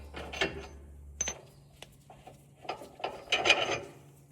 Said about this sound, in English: Now we're just going to slowly and evenly remove them.